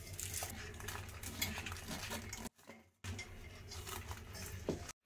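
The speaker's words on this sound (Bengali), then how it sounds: "এবার আমি একটা প্রেসার কুকারের মধ্যে এটাকে বসিয়ে দিচ্ছি" A pot being set down inside a pressure cooker while making mishti doi, sweet homemade yogurt, wrapped in a towel: continuous metallic clattering and shuffling of cookware, briefly interrupted by a short pause near the middle.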